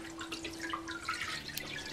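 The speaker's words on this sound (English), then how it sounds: "I especially love the sound of the water." Water dripping and trickling during homemade papermaking from fabric scraps. Small, close, irregular drips and splashes sound faintly over a quiet background hum.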